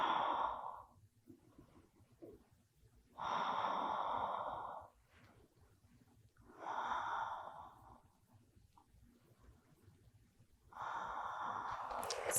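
Slow, deep breaths during a postnatal yoga pose, long airy exhalations rising and falling roughly every few seconds, close and fairly quiet against a soft background hum.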